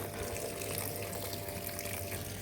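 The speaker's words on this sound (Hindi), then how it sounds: "तो ये डाल लेती हूँ दोस्तों फूलों में पहले पानी," Water pouring steadily in a continuous splashing stream, close by, with no voices.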